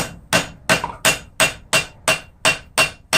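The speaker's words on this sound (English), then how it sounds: "Then we come in and we hammer that off to kind of get this thing rounded off." Steady, evenly spaced hammer blows ring out on hot steel while forging wolf jaw tongs, about eight sharp strikes in a regular rhythm, loud and close.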